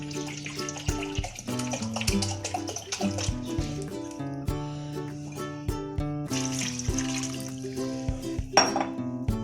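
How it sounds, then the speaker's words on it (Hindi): Water splashes and pours into a metal cooking pot holding mango for jam, with clinks and ringing tones from the pot as it fills. "साथ ही मैं इसके अंदर 2 गिलास के करीब पानी डाल दूँ"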